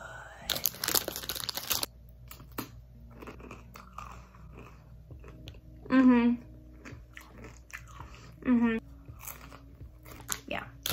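Two loud, brief crunches of Trader Joe's Norwegian crisp bread being bitten, spaced a few seconds apart and close to the mic, with a burst of noisy rustle at the start and quiet room sound between.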